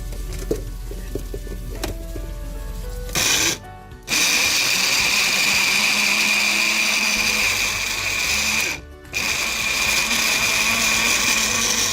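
An electric blender purees tomato for a beef shank korma sauce, giving a loud, steady, close motor whir that cuts out briefly twice before starting up again. No talking.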